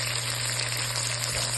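Chopped tomatoes sauté in a pan for ginisang ampalaya, a Filipino bitter melon dish, giving a steady, dense sizzle that holds close and even throughout with no break.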